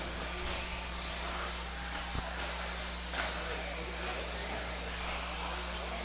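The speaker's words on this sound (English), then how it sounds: "Jared's car does not sound happy. It's got a loud squeal to it." A racing car with a loud squeal runs on track, giving a steady mechanical drone with a thin whining tone layered over it, moderately distant and continuous throughout.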